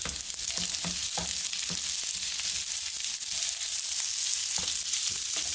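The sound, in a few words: stirring chicken fried rice sizzling in pan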